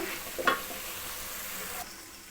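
Brinjal and tomato chutney cooks in a pan after a splash of water, making a low, even hiss with a brief utensil clatter near the start before the sound drops away abruptly near the end.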